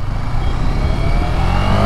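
A stopped car's engine revs steadily in place, a loud, continuous low rumble that holds at a fairly even pitch, close up and without speech.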